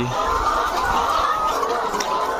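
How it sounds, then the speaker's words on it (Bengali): Chickens cluck in a crowded poultry farm in Comilla where eggs are being collected, a dense, steady chorus of many birds filling the space without pause. "পারভেজ ভাইয়ের মুরগির খামারে হচ্ছে আবার চলে আসলাম"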